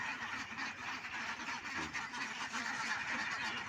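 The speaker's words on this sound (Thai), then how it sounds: "ตอนนี้ก็จะมาถึงล้าวเป็ดแล้วนะครับ เสียงดังมาก" A large flock of penned ducks quacks loudly and continuously at a farm, with many overlapping calls forming a dense, raucous chorus close by and no talking.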